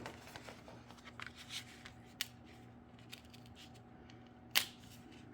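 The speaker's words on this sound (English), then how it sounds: "if I can sneak my scissors in there, we'll be able to just give it a little snip" Scissors make a few small snips into paper while building a two-page scrapbook layout, faint, sparse clicks against quiet room noise with no talking.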